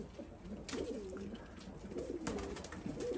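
Iraqi pigeons cooing in a loft, several soft, rounded coos in repeating bursts, fairly close, over a steady background of low hum and rustle, with no talking.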